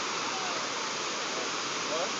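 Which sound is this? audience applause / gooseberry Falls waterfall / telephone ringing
gooseberry Falls waterfall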